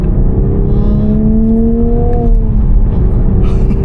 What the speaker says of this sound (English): Downshift.